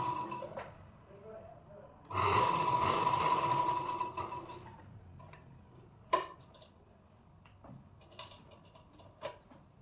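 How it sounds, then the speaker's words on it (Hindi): A sewing machine stitches a deep-neck princess-cut blouse neckline to its lining, a rapid mechanical ticking burst of about two seconds, then scattered clicks and handling noises, with someone talking. "ऐसे खींच के अस्तर की साइड ऐसे रख के ऐसे में सिलाई लगा दूंगी"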